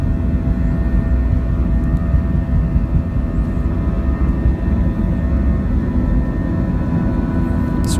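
Airliner taking off from San Diego International Airport heard from inside the cabin, a loud continuous roar of jet engines and rushing air filling the whole stretch, with faint talk underneath.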